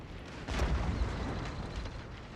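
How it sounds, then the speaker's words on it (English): Artillery barrage in a Shogun 2 battle, a sustained roar of overlapping booms with a heavy burst near the half-second mark, then continuous rumbling blasts without any talk. "Artillery is really opening up on them"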